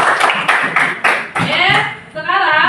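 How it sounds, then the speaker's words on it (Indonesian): Fifth-grade schoolchildren clapping in a classroom, a few sharp bursts of applause in quick succession, close and fairly loud, with a teacher speaking in between. "tepuk tangan dulu buat kita semua"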